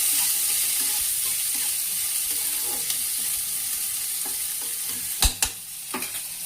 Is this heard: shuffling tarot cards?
no